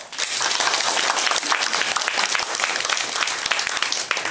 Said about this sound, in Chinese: 大家是不是以最热烈的掌声向我们理事长还有我们的所有南寮村的